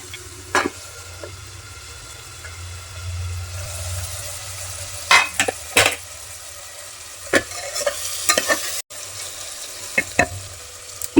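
Chopped onion softening in a covered pan for a home-style rajma rice, a steady low sizzle and simmer with occasional sharp clinks and scrapes of a utensil against the pan, close and moderately loud, no talk.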